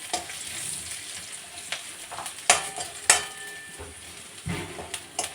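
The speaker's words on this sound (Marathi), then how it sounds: "बघा, इथे कांदा छान आता फ्राय झालेला आहे." Onion fries in a pan with turmeric, giving a soft continuous sizzle broken by a few sharp utensil clinks and scrapes as it is stirred, heard close with no speech.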